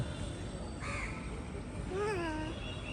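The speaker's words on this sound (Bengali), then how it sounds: "এটা পাখি।" A crow gives a couple of short harsh caws over a steady outdoor background hum, moderately close and fairly faint.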